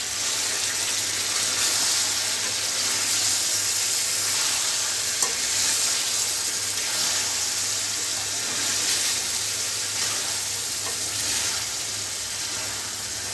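Chicken frying in a pan, a steady loud sizzle with a spoon stirring and scraping through it, continuous and close, no talking.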